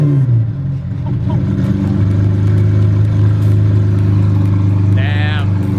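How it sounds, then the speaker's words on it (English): Lamborghini Aventador with a custom exhaust on a cold start: the engine settles into a loud, steady low drone at high idle, with a short voice near the end. "we're about to get a cold start up on this custom exhaust Aventador"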